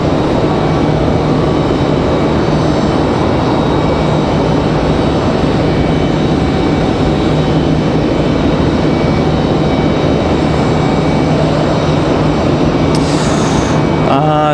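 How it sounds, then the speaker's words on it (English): Icelandair Boeing 737 MAX 9 jet arriving at Raleigh Durham airport from Reykjavik, a loud continuous engine roar filling the whole span, with a brief higher whine near the end. "Iceland 821 coming in from Reykjavik, 737 MAX 9"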